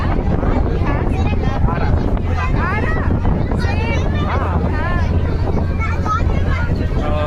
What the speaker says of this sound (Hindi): बहुत हवा चल रहा बा।